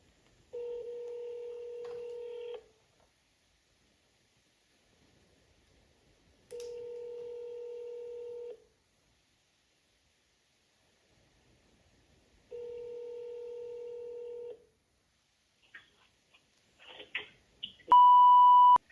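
Telephone dialing while placing a call: three separate tonal bursts of about two seconds each with silent gaps between, then a quick flurry of short keypad-like beeps and a final clear tone near the end.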